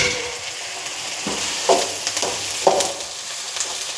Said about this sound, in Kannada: ಟೊಮೊಟೊನ ಚೆನ್ನಾಗಿ ಸಾಫ್ಟ್ ಆಗೋ ತನಕ ಫ್ರೈ ಮಾಡ್ಕೋಬೇಕು